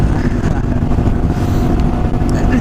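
Phaser 600 motorcycle riding on a road, a steady loud engine rumble with wind buffeting, continuous throughout with no break.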